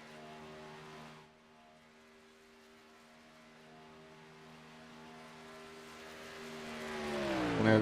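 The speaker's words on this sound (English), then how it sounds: "Other cars on track now." Race trucks circle Auto Club Speedway in a Sportsman Legacy Trucks Series round, with steady engine tones droning at a distance before a louder machine closes in and rises sharply at the end.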